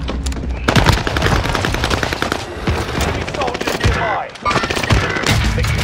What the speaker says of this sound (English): I just shot this guy point blank in the face with a shotgun and he didn't die.